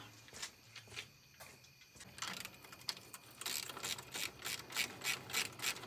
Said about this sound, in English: Tighten up this V-band.